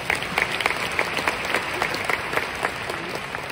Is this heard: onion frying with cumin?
no